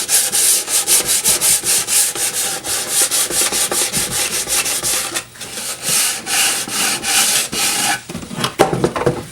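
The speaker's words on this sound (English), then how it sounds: "we're just going to sand the outside just to get kind of rough it up a little bit" Sandpaper rubs back and forth on the outside of a wooden beehive box in rhythmic, close, loud strokes, pausing briefly before quicker, scratchier rubbing.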